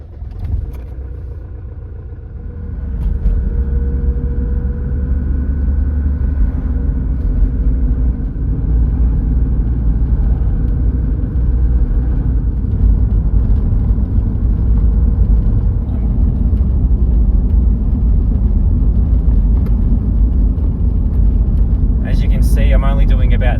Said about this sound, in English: I'll now go for a drive and show you how the DPF system will finish up its burn